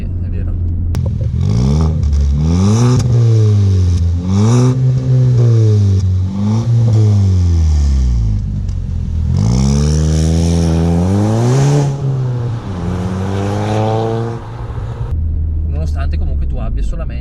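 An Audi TT 8J fitted with an aftermarket rear exhaust silencer revs hard several times, the engine note climbing and falling in long repeated sweeps, loud and close, with people talking over it.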